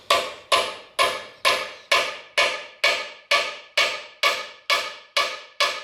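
Heavy hammer blows on a 1930 Ford Model A transmission part during a rebuild, a steady series of about twelve loud, ringing metallic strikes spaced roughly half a second apart, each decaying quickly, with no talk.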